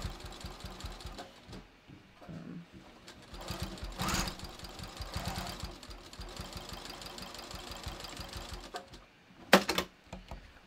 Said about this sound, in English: I'm just gonna stitch this down.